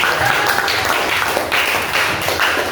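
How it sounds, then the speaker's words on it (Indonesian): Students in a classroom clap for a classmate, a short burst of close, brisk applause with uneven handclaps. "Tepuk tangan untuk kamu"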